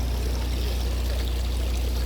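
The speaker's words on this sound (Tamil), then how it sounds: "மலையிலேருந்து தண்ணி வடிகிற மாதிரி எல்லாம் இருக்குது" Water trickling steadily through a small decorative tabletop mountain fountain, a continuous close pouring and babbling wash that never pauses.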